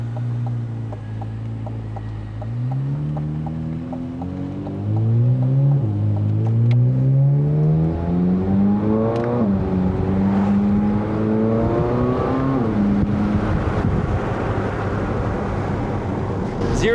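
A C8 Corvette Z06 pulling away and accelerating, its engine loud from inside the cabin, climbing through several gears with pitch rising and dropping at each shift, no talk.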